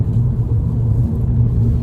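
A 270 bhp stage 2 MK5 Golf GTI spins its wheels on a wet road in second gear, heard from inside as a brief, steady, heavy low engine and road rumble.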